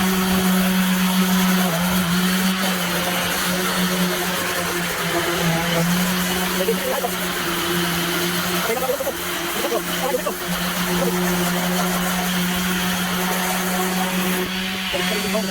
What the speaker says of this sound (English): so we've got the orbital sander out